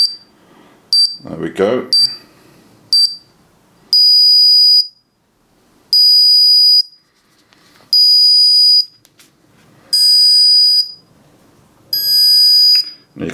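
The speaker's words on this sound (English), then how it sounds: "At 5 seconds it'll start beeping." An Omega Z-33 watch alarm sounds in a run of shrill electronic beeps, first short chirps and then five longer, regularly spaced bursts, loud and close, with a brief spoken remark near the start.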